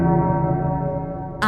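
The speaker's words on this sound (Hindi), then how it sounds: "क्या तुमने वो सुना? क्या सुना? वो घंटी," A bell rings with a single sustained, loud tone rich in overtones, holding steady and slowly decaying before a sharp new strike cuts in at the end.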